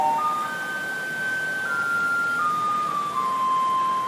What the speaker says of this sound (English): Even the garbage trucks make noise here.